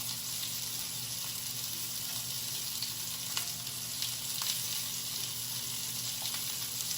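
Mango chipotle sauce with apple cider vinegar heating in a pan over medium heat gives a steady, soft sizzle that runs unbroken and fairly faint, with a few small pops and a low hum from the kitchen behind it.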